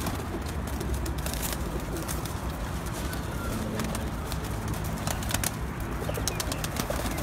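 Black-faced pigeons coo in a loft amid a dense, steady wash of bird noise, with occasional wing flaps and no clear talk.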